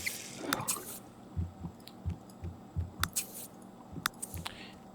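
Water drips in The Sims 3 in slow, irregular drops, each a soft, quiet plop, with faint higher clicks and taps scattered around them.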